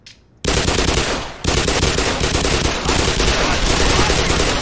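Sustained automatic gunfire in the Black Mesa shooter game, a loud, dense rattle of rapid shots that bursts in after a brief quiet start, pauses for an instant, then resumes and continues nonstop.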